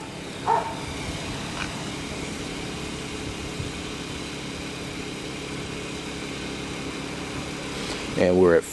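A Kipor IG1000P inverter generator, U.S. version, runs at a distance of about 40 feet outdoors, giving a steady, even engine hum throughout. A voice briefly cuts in near the start and again at the end.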